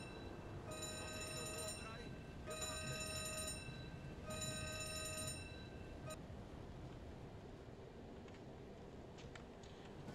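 A repeating electronic alarm sounds aboard a submarine in a U-Boat video game, three loud beeping bursts at a steady rhythm over a low engine rumble, then fading to the background hum with a few faint clicks.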